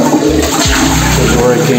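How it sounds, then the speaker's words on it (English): A toilet flushes in a resort bathroom, a loud, close rush of water with a low gurgle, heard alone without speech. "let's see if the bidet and the flush is working"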